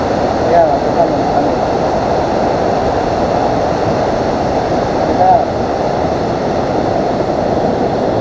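A continuous rushing of a river on Mt. Banahaw fills the scene, steady and fairly loud, with faint voices briefly audible beneath it.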